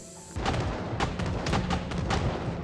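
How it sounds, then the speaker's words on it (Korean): Gunshots ring out near a bunker in the video game Project Zomboid. Several sharp, loud reports sound in quick, uneven succession over a booming background. "갑자기 벙커 근처에서 총소리가 들려왔습니다"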